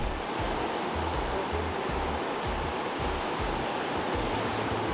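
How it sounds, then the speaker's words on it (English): Ocean surf at a surfing break in Siargao, heard from a dock as a loud, continuous wash of breaking waves with steady roaring noise and no speech. "We're gonna go check the waves, check it out."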